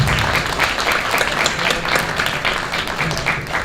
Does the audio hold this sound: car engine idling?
no